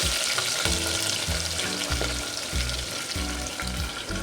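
Cumin, green chili and shallots sizzle in a hot clay pot, a loud continuous frying hiss with a rhythmic scraping stir repeating about every half second, no voices.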